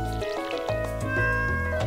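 A cat meows in the video game Stardew Valley, a few close, loud, drawn-out tonal meows in sequence, with splashing water faintly in the background.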